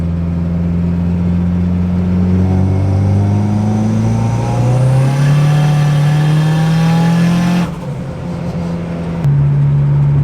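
A turbocharged 4G64 engine car pulls hard at wide open throttle, its loud engine drone rising steadily in pitch over several seconds, then a gear change drop and the climb resumes, heard from inside the car with no talk.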